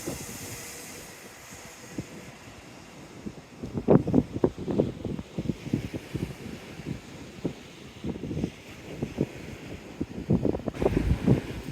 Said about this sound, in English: Get a bit of the ambience of the noise of the sea by the seawall.